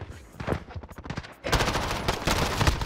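Rapid automatic MP5 submachine gun fire in the video game Modern Warfare, bursts of sharp shots building into a loud sustained stream in the second half.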